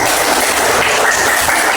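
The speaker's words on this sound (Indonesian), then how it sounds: "bagus, tepuk tangan" Children in a classroom clapping their hands together: a dense, loud wash of many overlapping claps, continuous for the whole brief moment, with no talk over it.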